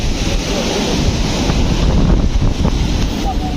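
Surf washing onto a beach during an outdoor pre-wedding photo shoot, a loud steady roar of breaking waves with wind buffeting the microphone throughout.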